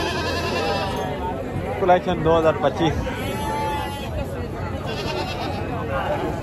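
Sheep and goats, including dumba sheep, bleat repeatedly at a busy livestock market, the calls rising over constant crowd chatter and people talking nearby.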